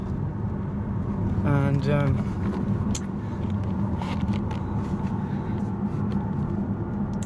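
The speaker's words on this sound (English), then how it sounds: "you hear more natural sound from this V8" A 2013 Audi RS6 Avant with a V8 engine drives along, its low engine rumble steady in the background while someone talks briefly over it.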